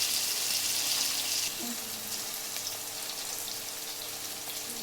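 Egg frying in a pan for egg biryani, a steady bright sizzle with fine crackle that runs throughout and drops slightly in level after the first second and a half.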